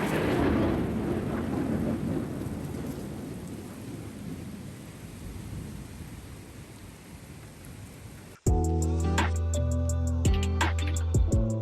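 A Kalbaishakhi thunderstorm at day's end brings a long, loud, rolling rumble of thunder over heavy rain that slowly fades, then music abruptly takes over for the last few seconds.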